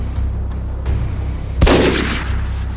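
A sniper rifle gunshot in a Team Fortress animation: one sharp, loud blast with a brief tail, standing out against a steady low background hum.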